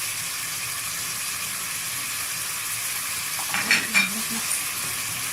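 Meat coated in black pepper and meat spices is stirred in a hot pan for Egyptian khobeiza, a steady soft sizzle with a few brief scraping strokes of the spoon near the end.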